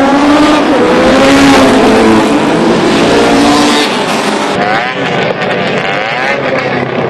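Vintage oldtimer motorcycles roar off the line at the start of a European championship race for historic bikes, a loud, dense engine din with rising and falling revs from several machines, continuous throughout.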